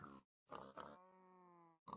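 Pig grunts from Minecraft Sky Factory 4: a few short, close, loud grunts in quick succession, one held a little longer, with brief silences between them.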